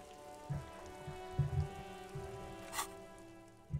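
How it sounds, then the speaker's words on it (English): Steady rain patters in the video game Disco Elysium, a soft, even wash with a few heavier drips and light thumps, quiet and without voices. "This rain will not let up anytime soon."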